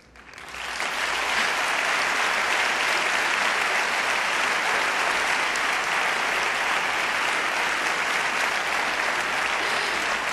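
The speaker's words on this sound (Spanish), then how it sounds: "¡Qué bonita ovación, don Enrique!" A big, sustained ovation at the Goya film awards ceremony greets Enrique González Macho, president of Spain's film academy, swelling quickly into a loud, continuous roar of clapping from a large hall.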